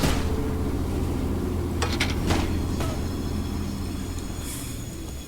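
The monster train from the horror game Choo-Choo Charles rumbling close and loud, a heavy continuous low roar with clanking metallic hits in the middle that slowly fades.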